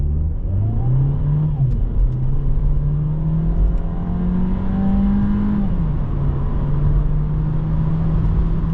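A 2024 Volkswagen Jetta accelerates hard from a standstill to 100, its engine note climbing steadily through the gears with a brief shift dip, loud and close throughout with no talk.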